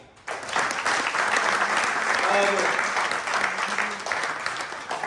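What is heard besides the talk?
audience applause for the theatre cast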